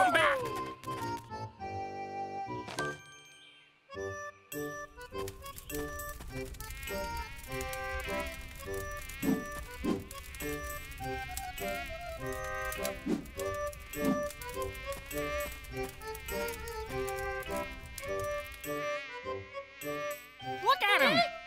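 A thin, high buzzing drones on and on, like a swarm of mosquitoes, mixed with busy cartoonish music and effects.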